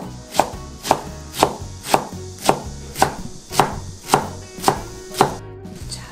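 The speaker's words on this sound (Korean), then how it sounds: "이렇게 듬성듬성하게 이렇게 썰어주세요" Cabbage for dumpling filling is cut with a knife on a cutting board, giving about a dozen evenly spaced, crisp chopping thuds in a steady rhythm, close and loud, with no talking.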